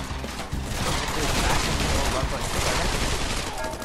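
Rapid PP90 submachine gun fire in a VR gun game, a dense, continuous burst of loud shots lasting nearly four seconds, with voices mixed in.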